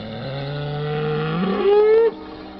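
A single cow or ox gives a long, mournful moo as a horror-story sound effect, rising in pitch and swelling louder before cutting off abruptly, close and alone.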